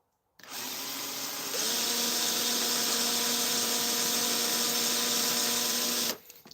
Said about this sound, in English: I'll drill it like that, I think.